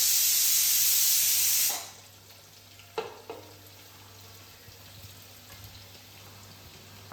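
Onions tip into hot oil in a pan for a Vadakara beef biryani, starting with a loud hissing burst that cuts off sharply, then a couple of knocks and a quiet low background hum.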